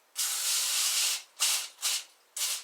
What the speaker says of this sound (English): I just sprayed the pan release